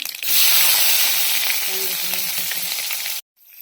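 Mustard seeds crackle and splutter in hot oil in a pan, a loud steady sizzle with small popping bursts that runs for about three seconds before cutting off abruptly.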